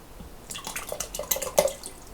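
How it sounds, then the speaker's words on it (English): A whole jar of marinara sauce poured into a pot of beef broth, heard as a string of wet drips, plops and splashes that grow denser and louder, close by with no talk. "I'm also going to pour in a whole jar of marinara sauce."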